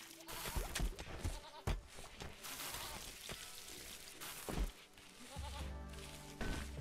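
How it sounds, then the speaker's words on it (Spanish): A goat bleats in the colony sim RimWorld, its cries mixed into busy game sound with scattered clicks and patter, moderately loud throughout and with no talk over it. "Ay, se me ha comido el arroz la cabra."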